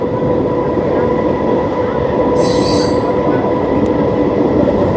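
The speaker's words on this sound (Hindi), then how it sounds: "छत्तीसगढ़ के जंगलों से गुजरते हुए भाई ट्रेन जा रही है।" A train runs through forest in Chhattisgarh, India, with a steady loud rumble of wheels on rail, brief high wheel squeal partway through, continuous and close.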